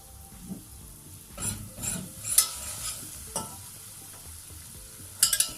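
Flour toasts in hot oil in a pot for a spoon börek soup with a soft sizzle, punctuated by scraping stirs and a few metallic clinks of a utensil.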